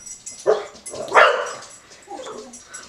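A dog barks indoors in two or three separate bursts, the loudest near the middle, with fainter yips trailing after and no one talking.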